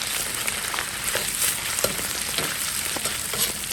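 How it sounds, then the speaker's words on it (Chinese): Lamb kidneys stir-fry in rendered lamb fat with hot chilies, making a loud, continuous sizzle. Occasional clicks of stirring break through it up close, and no one talks. "用小油把羊油煸出来，再把腰子下锅啊"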